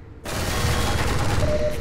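Loud, dense burst of gunfire in a first-person shooter, a sudden onset swelling into continuous rattling blasts that run to the end without pause.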